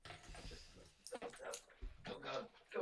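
A puppy whimpers and yips softly in short, uneven bursts, close by and quiet, mixed in with people talking.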